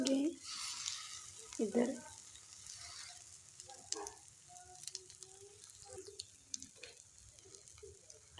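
Bread frying in a pan gives a faint, gentle sizzle with soft scraping and handling noises, while a person talks quietly over it.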